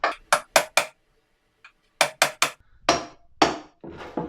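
Reclaimed scaffold boards get bashed apart with a hammer in a workshop: sharp, loud wooden knocks come in quick bursts of four and three, then a few heavier, ringing blows follow.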